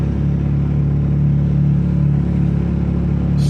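A BMW engine with an open dump venting straight out of the turbos gives a loud, steady, deep drone held for a few seconds, with no speech.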